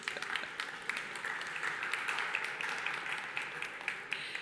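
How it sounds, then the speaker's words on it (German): A conference audience gives a fairly quiet round of applause, a steady patter of many hands clapping at moderate distance for several seconds. "ein Applaus ganz laut für Sie selbst"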